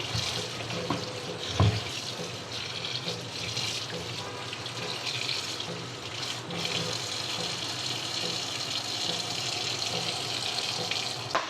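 Tap water runs steadily and fairly loudly into a sink while Malabar spinach is set to soak, a continuous close splashing rush with one brief knock near the start and no talking.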